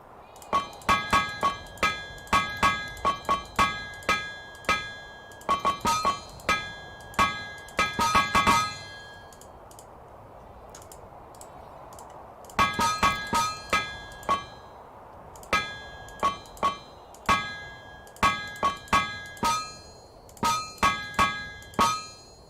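A hammer strikes an anvil while welding metal in the TerraFirmaCraft video game: loud, ringing metallic clangs in steady rhythmic bursts, a pause midway, then more evenly spaced strikes.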